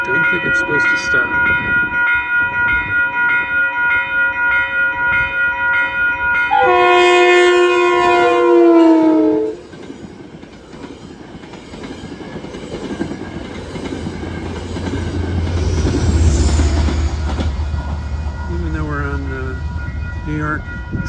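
A Metro-North train passes Manitou station on the Hudson Line in New York with a loud steady rumble and rhythmic clatter, a long horn blast with falling pitch midway, then the roar fades to a lower rolling hum.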